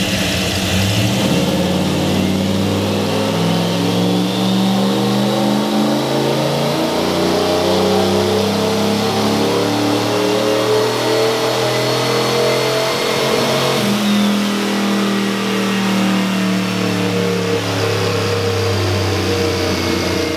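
A turbocharged Ford 460 V8 with a stock bottom end revs hard on a dyno: loud, sustained pulls with rising pitch, a brief drop, then another climb, alone and close.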